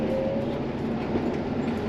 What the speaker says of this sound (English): And that's the last rail car that went through.